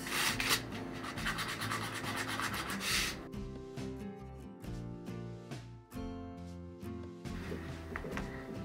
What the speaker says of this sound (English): we're just gonna sand around the edges